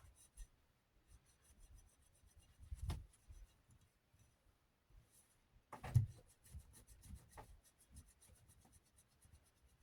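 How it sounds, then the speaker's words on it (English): Intermittent rubbing and wiping strokes as sticky kitchen dust is scrubbed off a white Hunter Passport II fan, soft and close, with a few sharper scrapes and quiet pauses between bursts. "I have to do some serious scrubbing to get it off."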